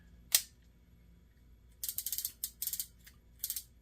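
Anti-reverse ratchet on a vintage Daiwa Sealine 50H fishing reel, heard as one sharp click followed by quick bursts of clicking from turning the handle, close and crisp in a quiet room.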